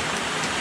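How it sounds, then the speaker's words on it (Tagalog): Steady rain falls in a rural area of Occidental Mindoro, a dense, even hiss of drops that stays loud and constant through the short moment, with no talk over it. "umuulan."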